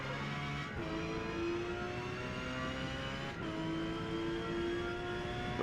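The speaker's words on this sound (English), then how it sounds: "I'm losing grip with these tires. And you can hear them squealing." A Porsche 911 GT3 in the Forza Motorsport racing game at Mugello, its engine droning steadily at high revs with faint tire squeal as grip fades, shifting pitch briefly a couple of times.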